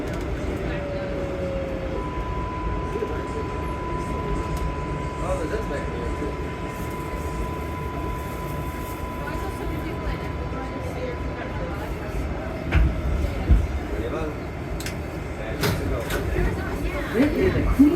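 A Queens-bound 7 local subway train at Times Square station, a steady low rumble and hum of the train with a sustained tone, louder rattling bursts toward the end, voices murmuring faintly underneath.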